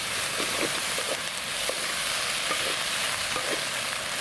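Halved sausages sizzle steadily in a pan on a titanium twig stove outdoors, with intermittent scraping and stirring clinks from a utensil throughout, loud and close with no talking.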